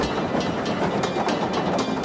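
A British Southern Railway Class S5 steam locomotive rumbles past close by on a long curve, a continuous rolling roar with rhythmic clattering of wheels over the rails.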